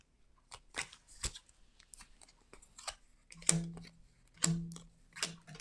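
Tarot cards are shuffled and drawn by hand, making quiet, scattered rustles and brisk riffling snaps, with a few sharper slaps standing out near the end.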